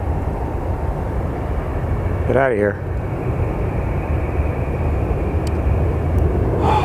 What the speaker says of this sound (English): And this plane needs to move.